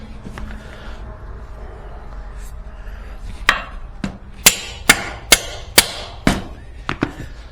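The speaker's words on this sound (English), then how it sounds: "It's started through the hole, so it's just tapping it through a little bit." A mallet taps a bolt through a mounting hole while fitting landing gear to a Cicare helicopter frame: about eight sharp knocks, close and fairly loud, coming in a quick irregular run after a quiet stretch.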